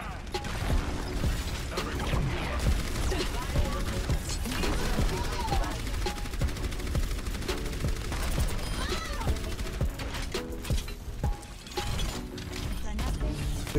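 Orisa's gun firing in the video game Overwatch, a long stretch of rapid, steady automatic shots mixed with busy game effects and ability sounds, loud and continuous throughout, with voices briefly talking in the mix.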